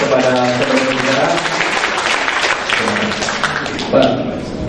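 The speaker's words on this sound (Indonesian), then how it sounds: "kita berikan tepuk tangan kepada saudara-saudara" Applause from the audience at an Islam-Christian debate event, a busy spread of clapping mixed with speech that runs through most of the stretch.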